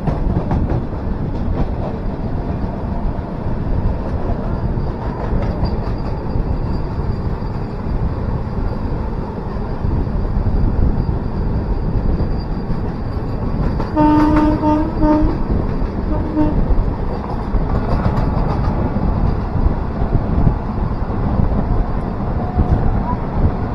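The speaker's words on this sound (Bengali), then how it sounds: "দেখো বন্দে ভারত স্পিড নিয়ে নিয়েছে।" The Vande Bharat Express between Bhubaneswar and Visakhapatnam runs at speed, a loud continuous rumble and rush of wheels and wind, heard steadily throughout.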